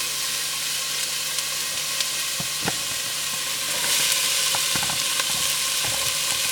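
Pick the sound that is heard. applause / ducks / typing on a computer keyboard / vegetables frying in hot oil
vegetables frying in hot oil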